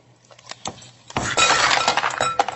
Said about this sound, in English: Okay, dump the ice cubes in here.